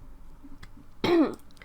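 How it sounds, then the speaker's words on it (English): A single short, close throat clear from a person, one gruff rasping burst against a quiet background. "Might have to clear my throat a few times."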